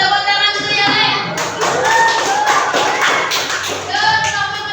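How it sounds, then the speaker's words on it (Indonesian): A classroom of students claps for the first presentation group, a dense burst of hand claps rising after a moment and running steadily under a teacher's voice, with a few voices mixed in. "Silakan duduk, tepuk tangan dulu yang lain"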